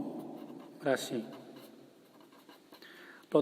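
A pen scratches on paper while a math problem is worked out by hand, with soft, irregular strokes beneath someone talking nearby.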